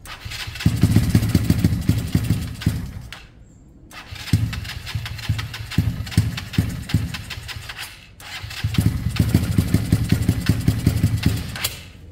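A Kawasaki KSR GRS 125 motorcycle with its airbox fitted cranks and fires, revving in three rough bursts separated by short drops to near quiet. The engine sounds close and loud, and nobody talks over it.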